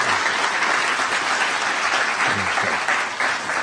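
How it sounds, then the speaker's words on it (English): An audience at an Afro-American Sports Hall of Fame event applauds, a dense, steady wash of clapping from a crowd that holds at a fairly even level and fades slightly near the end. "And let's give her a round of applause."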